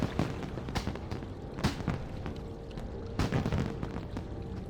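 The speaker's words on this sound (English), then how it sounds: "Stop the fireworks." Fireworks burst repeatedly in World of Warcraft during the Lunar Festival, a string of loud booms and crackling pops at irregular intervals over a dense, continuous rumble, with no voices.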